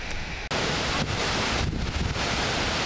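An Icelandic waterfall roaring as a constant loud wash of noise, with gusty wind buffeting the microphone and a brief dropout early on.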